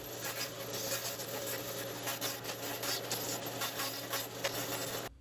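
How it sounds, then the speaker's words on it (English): A bandsaw blade cuts wood in a home workshop, working back and forth: a steady motor hum beneath a continuous gritty rasp that rises and falls slightly, with no talking. "At the bandsaw, I cut the outer edges and then mill out the material between,"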